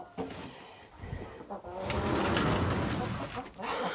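Brahma hens cluck softly and intermittently nearby in a farmyard, with short irregular calls rising and falling over a few seconds.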